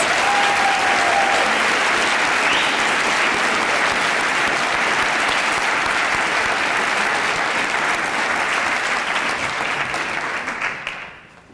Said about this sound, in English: now you can flood them with wild applause